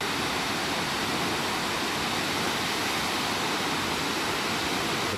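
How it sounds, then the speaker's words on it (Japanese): Ōtodoro waterfall in Tokushima on Shikoku, with several cascades stacked above it: a constant, loud, even roar of falling water that fills the whole sound with no pauses and no voices. "大トドロの滝という滝です。"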